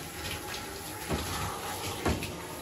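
Tap water runs steadily for bathing a 170 lb English Mastiff, a continuous splashing flow with a couple of louder splashes and no talk over it.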